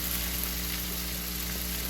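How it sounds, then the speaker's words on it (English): Thin strips of beef cut against the grain stir frying in a hot pan, a steady, even sizzle with no talk over it. "we will start stir frying that"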